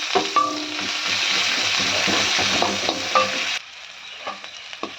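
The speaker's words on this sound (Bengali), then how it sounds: "রসুনটা যখন একটু লালচে হয়ে যাবে তখন আমি দিয়ে দেবো এই পেঁয়াজ কুচিটা।" Chopped onion frying in a pan with garlic and dry red chilli, a loud close sizzle with occasional stirring clinks, then dropping suddenly to a softer sizzle near the end.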